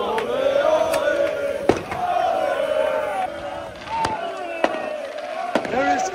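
Football fans celebrating a late title-winning goal in Antwerp set off fireworks and flares, with sharp bangs cracking several times over a loud, continuous crowd roar of chanting and shouting.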